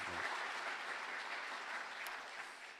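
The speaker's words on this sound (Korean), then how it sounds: "우리 또 감사와 또 격려의 박수 주시면 고맙겠습니다" A church congregation applauds during a Holy Week special night prayer service, a steady dense wash of clapping that stays fairly even and faint, tapering slightly toward the end.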